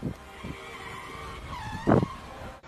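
Cars passing on a road with tyres skidding, a whooshing pass and a sharp squealing skid near the end, set against tense dramatic music.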